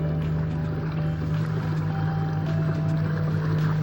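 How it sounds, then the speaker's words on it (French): An electric motor mounted on a hybrid fishing kayak drones with a steady low hum as it speeds up, water gurgling and trickling along the hull close by. "Là j'accélère. Je soulage mon moteur."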